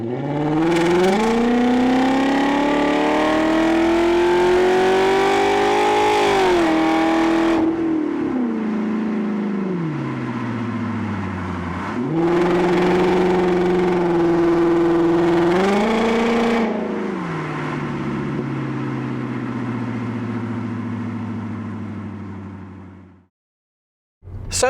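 A family car with a W-engine, half of a Bugatti unit, pulls hard through the gears, its rising engine note dropping with each shift before easing off into a long steady cruise that fades out.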